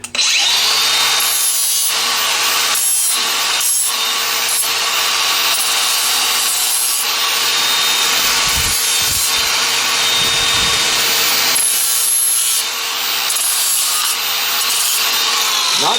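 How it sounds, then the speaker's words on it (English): Power sander smoothing the edge of a wood piece for solar panel legs, a loud continuous abrasive whir with rhythmic pulses as the sander moves along the edge, no talking. "I'll take my sander and I'll clean up that edge again."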